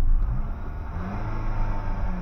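Car engine with a worn-out clutch running steadily close by, its low rumble rising and falling slightly as the revs shift, with no voices over it.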